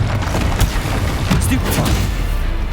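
In the Hogwarts Legacy video game, a Confringo blasting spell is cast amid combat, producing a dense, loud booming rumble with a few bright crackling bursts layered over it.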